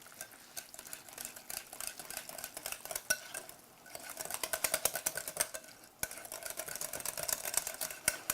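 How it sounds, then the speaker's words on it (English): Ingredients whisked in a bowl in a home kitchen, a rapid, steady clatter of metal tines against the bowl lasting the whole stretch, close and moderately loud with brief pauses. "You want to whisk that a little"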